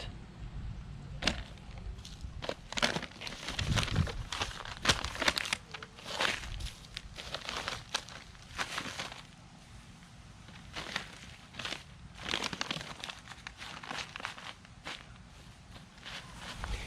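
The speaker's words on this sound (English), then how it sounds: "Tear the paper bag. Don't be afraid to destroy the paper bag." A paper bag is torn and crumpled over a garden weed patch, producing loud irregular crackling rips and crinkles in bursts, close to the microphone with no talking.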